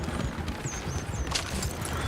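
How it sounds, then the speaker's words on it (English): Horses in Red Dead Redemption 2 clatter with steady clip-clop hoofbeats over a dense, noisy game backdrop, with a faint whinny or squeal rising briefly near the middle. "Oh, shit, the horses!"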